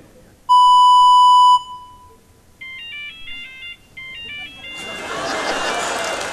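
A mobile phone rings on a TV quiz-show stage: one long loud beep, then a quick repeating melodic ringtone, which gives way to a burst of noisy crowd sound.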